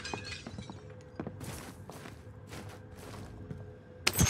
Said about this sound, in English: Heard glass break by you, Tommy.